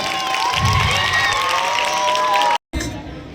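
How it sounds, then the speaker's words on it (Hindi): Cheering and shouting from a village crowd celebrating Ambedkar Jayanti, honouring a child, loud and sustained with whoops, then a brief cut to silence and a quieter return. "जोरदार ताली हो जाए बच्चे के लिए"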